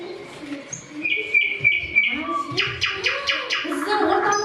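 Small birds chirping and tweeting close by in a bright rhythmic series of repeated calls, with a soft cooing note underneath and no talk.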